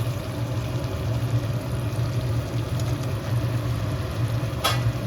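Fried potatoes sizzle and get stirred in spiced oil in a pan for a Bengali potato and pointed gourd curry, with a steady close crackle and a brief scrape near the end.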